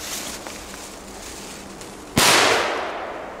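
A Superootje firecracker without a fuse explodes in one sharp, loud bang after a quiet outdoor lead-in, its echo trailing off over the following second.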